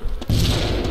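A frag grenade detonates in DayZ: a sudden, loud, close boom breaks from near-quiet into a broad, sustained roar that rumbles on to the end.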